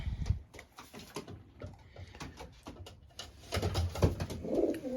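Racing pigeons coo softly inside a loft, with low repeated throaty calls and some shuffling and wing movement nearby, close and moderately quiet.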